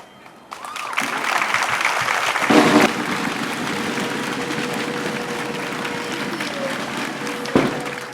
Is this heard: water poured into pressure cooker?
no